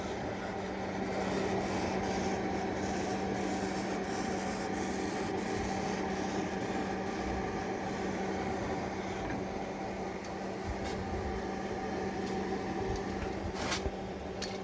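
A vinyl cutter slices a registration decal, giving a faint, continuous scratchy rubbing hiss over a low motor hum, with a few brief ticks near the end.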